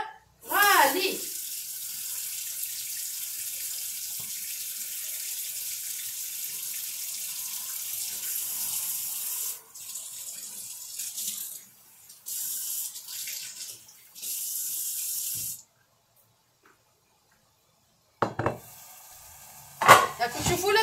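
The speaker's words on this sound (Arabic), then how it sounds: "انا ندير الماء في الماكله" Water runs steadily from a tap into a cooking pot while pasta for salmon tagliatelle is prepared, a continuous hiss broken by brief pauses, with a few clinks and short bursts of talk near the end.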